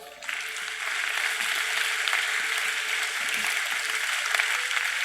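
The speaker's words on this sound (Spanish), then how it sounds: "Brinden un aplauso al Señor." Church congregation clapping together during a Spanish-language worship service, a dense, sustained wash of applause that holds steady from start to finish.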